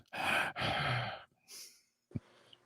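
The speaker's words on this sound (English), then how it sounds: "Now you can hear me breathing." Close breaths into a microphone: two long exhales, then a softer breath and a brief snort-like puff, quiet between them.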